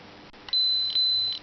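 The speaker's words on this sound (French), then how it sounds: "Un double bip me dira qu'il est excellent." A Peak ESR70 capacitor ESR tester gives a double beep, two close, loud, high tones in quick succession against quiet background hiss, with no talking.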